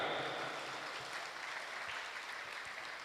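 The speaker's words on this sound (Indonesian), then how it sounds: "Tepuk tangan SMK." Vocational high school students applaud at the closing ceremony of a provincial skills competition in West Sumatra, a faint, steady patter of clapping from a distant crowd.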